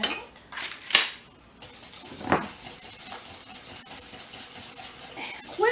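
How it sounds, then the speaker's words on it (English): Fudge pie batter is whisked in a bowl, starting with a few metallic clinks of utensils against the bowl before a soft, continuous swishing. "Now I am going to use my my whisk."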